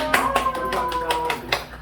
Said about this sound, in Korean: 우리 마을도 박수 한번 쳐줄까요?